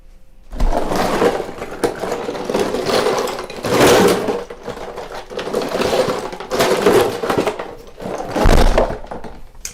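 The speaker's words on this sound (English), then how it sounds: "That's the sound of me drinking ice cold water out of a gallon." Steady gulping and sloshing of ice cold water swallowed from a gallon jug, with rhythmic glugs and thumps, close and loud, no talking.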